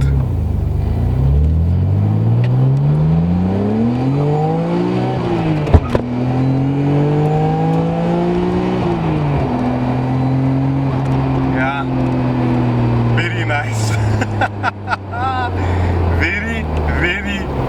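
Nissan Skyline R33 GTR engine revving while driving, rising in pitch through the gears with steady loud drone and a brief shift dip, a voice talking over it near the end.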